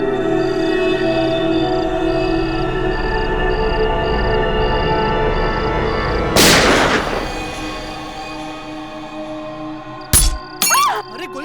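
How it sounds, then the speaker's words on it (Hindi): Gunshots in a CID television drama fight scene: one loud, close shot bursts out over tense background music, followed a few seconds later by a couple more sharp cracks. "अरे गोली चलने की आवाज आई।"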